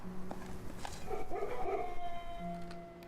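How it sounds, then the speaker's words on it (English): Dogs barking and howling from a kennel in the video game Blue Prince, a cluster of yelps and howls over a quiet tonal background, moderately loud. "I hear dogs barking anytime I dig now is because of the kennel"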